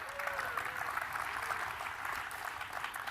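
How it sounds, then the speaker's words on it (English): A crowd claps steadily throughout, a dense wash of applause heard from within a room at a Disney Infinity convention event, with a voice faintly underneath. "a big round of applause"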